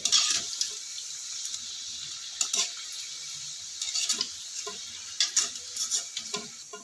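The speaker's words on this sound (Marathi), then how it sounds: "आता ह्या छान तळून झाले काढून घेऊया आता अशाच पद्धतीने सर्व तळून घेऊया" Wheat flour snacks fry in hot oil with a steady, moderate hiss, broken by intermittent scraping and clinking as they are stirred and turned.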